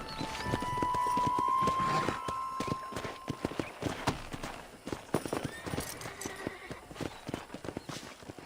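Horse hooves clip-clop in the video game Red Dead Redemption, a brisk rhythmic run of close hoofbeats mixed with game ambience and a brief tonal hum near the start.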